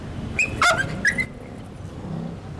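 A dog yips and barks a few times in quick succession, fairly close, with a low background hum and no talking.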